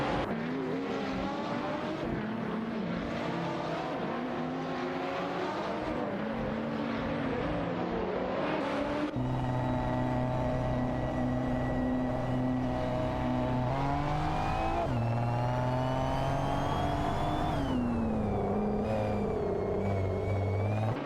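Racing cars in an AI racing video game, including a Thevor Tuscan S and a BMW 8, roar in sustained high engine tones that climb and shift with gear changes, loud and continuous.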